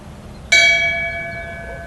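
A memorial bell is struck once, a sharp clear ring that lingers with a long, slowly fading tone at a moderate distance.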